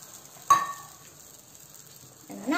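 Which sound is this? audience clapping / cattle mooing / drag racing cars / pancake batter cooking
pancake batter cooking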